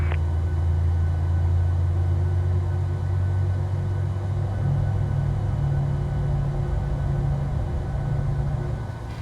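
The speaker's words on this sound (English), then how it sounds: "Sounds like a pretty good engine start to me." Boeing 737 engine spooling up during a start in the PMDG flight simulator, a steady low rumbling drone with a sustained hum that holds loud and continuous throughout, no voices.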